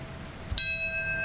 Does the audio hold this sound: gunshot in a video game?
no